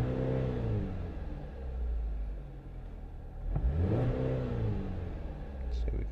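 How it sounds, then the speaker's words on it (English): A Chevrolet or Pontiac car engine is revved hard from inside the vehicle, rising and falling twice in a deep, loud rumble with steady idle underneath, and someone talks briefly over it. "Rev it up pretty good."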